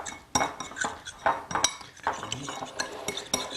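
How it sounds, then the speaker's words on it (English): A spoon stirs flour and water into Moroccan harira soup in a pot, making repeated clinks and scrapes against metal in an uneven, busy rhythm. "and I need to stir this."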